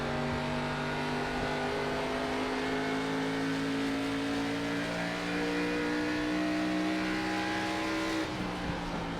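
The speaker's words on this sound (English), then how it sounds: "You hear that throttle right there, how he kind of lets off and then back on it?" Race car engine in the iRacing NASCAR sim at Iowa Speedway, droning steadily close up with throttle eased off and reapplied, harmonic engine tones shifting slightly in pitch as the car works through a turn.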